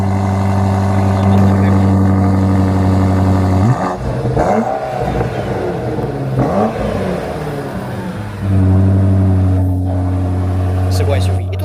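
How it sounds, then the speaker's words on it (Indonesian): A BMW SUV's engine runs at a steady idle, then revs up and down in the middle before settling back to idle. A voice talks over the engine throughout. "Gila, suara itu dari SUV BMW."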